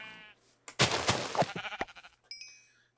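A sheep bleats in Minecraft 1.9 with a loud, wavering game-sound cry, followed by clattering in-game effects and a short tonal chime, with no talking.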